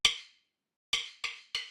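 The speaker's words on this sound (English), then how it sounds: "It sounds like you're hitting your drumsticks together to notice the BPM right before you start playing drums." Logic count-in clave rim shot preset from a 60's Soul Plus kit: four dry, bright clicks, one then a pause and three evenly spaced, sharp and short with quick decay, like drumsticks struck together.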